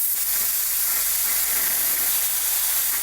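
Miller 40 amp, 220 volt plasma cutter firing with a steady, loud rush of compressed air hiss, broadband and unbroken throughout, with no voices.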